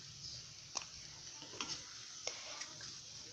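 Idli biryani gravy is stirred in a pan with a spoon, giving a few scattered scrapes and clinks over a faint, steady sizzle. No one talks.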